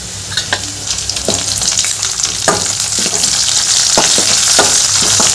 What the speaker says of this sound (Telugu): ఈ ఆనియన్ అనేది కొంచెం కలర్ వచ్చేంత వరకు వేయించుకోండి.